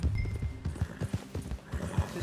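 Horse hooves clip-clop in steady uneven beats within the Red Dead Redemption 2 video game world, close and fairly loud, with a faint whinny and no talk.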